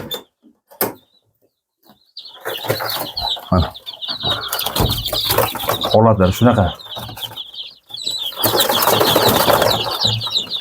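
Andijan black chickens cluck and squawk loudly and close by, with bursts of wing flapping and shuffling through most of the stretch after a quiet opening with a few knocks; someone speaks briefly.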